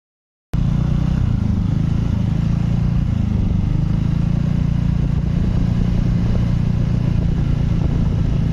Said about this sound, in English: Observation: engine noise from cylinder head assembly area during normal riding.